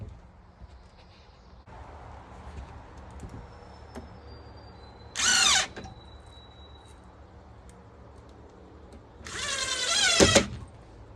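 A power drill drives screws into a wooden handrail board in two short, loud bursts with a quiet pause between them, the second burst longer, over faint workshop background.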